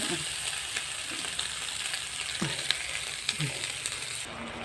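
Zucchini stir-frying with salted fish in a pan gives a steady, close sizzle and crackle, broken by a few soft scraping stirs, with no talking.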